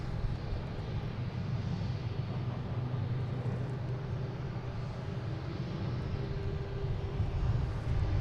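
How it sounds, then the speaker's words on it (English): A United Airlines airliner arriving at Boston Logan airport makes a steady, broad, low engine rumble that holds evenly throughout. "we have a United Airlines coming in from Norfolk"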